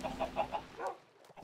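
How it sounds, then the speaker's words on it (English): A chicken in the Minecraft video game clucks in a quick series of four or five short, moderately faint calls, then falls quiet. "chicken."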